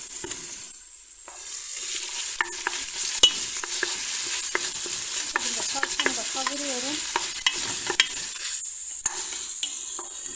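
Onion and carrot fry with pepper-tomato paste in a pan for a barbunya bean dish, giving a steady close sizzle with repeated clicks and scrapes of stirring throughout.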